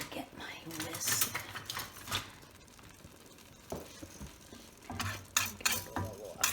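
A whisk scrapes and clinks against a pan while stirring pork chop gravy to break up lumps, coming in quick rhythmic bursts with brief pauses, close and moderately loud, with a voice talking over parts of it.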